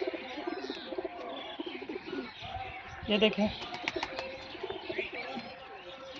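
Pigeons coo in soft, repeated low calls at close range, with other bird chirps mixed in and someone talking over them throughout.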